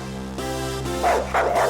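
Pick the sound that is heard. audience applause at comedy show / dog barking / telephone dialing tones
dog barking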